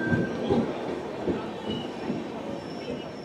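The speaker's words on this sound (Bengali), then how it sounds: "ফাইনালি রাধিকাপুর হাওড়া কুলিক এক্সপ্রেস ঢুকছে" The Kulik Express, a Radhikapur–Howrah passenger train, rolls into a station platform with a steady rumble of wagons, rhythmic wheel clatter and a thin squeal of wheels, heard from close by and without talk.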